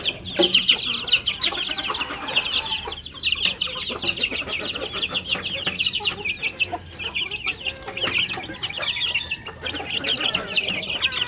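Young chicks cluck and peep continuously while being fed in a backyard pen, a dense chorus of small birds close by with steady rustling beneath it.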